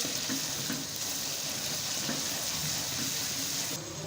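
Green chillies and masala stirred into a tomato-onion mixture frying for daal maash, giving a steady close sizzle with soft scraping stirs and no talk.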